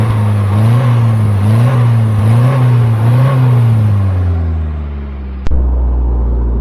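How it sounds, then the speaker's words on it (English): A Mini A-series engine on a 1970s Turner Ranger tractor, with only half an exhaust fitted, revs rhythmically up and down several times, loud and close, then settles to idle before a sharp click and lower rumble. "A-series noise there."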